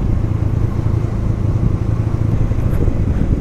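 Motorcycle rolling down a steep mountain slope in Ladakh, its engine a steady low rumble with road clatter throughout, close and fairly loud, with no talk.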